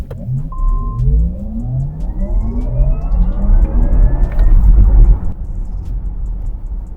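A Porsche Taycan 4 Cross Turismo makes an electric launch, its motor whine sweeping steadily upward in pitch over deep road and tire rumble, loud and close from inside the car, then the whine drops away.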